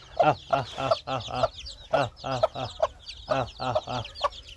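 Local chickens cluck repeatedly at close range while being fed grain, a steady run of loud clucks and calls with short pauses between them.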